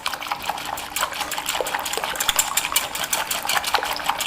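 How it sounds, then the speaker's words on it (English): Whisk clattering steadily against a bowl while mixing a blue cheese strawberry vinaigrette of vinegar, jam, crumbled blue cheese and herbs, producing a quick, even run of close metallic ticks and light liquid sloshing with no voices. "Whisk it together until I see that the blue cheese has started to break up"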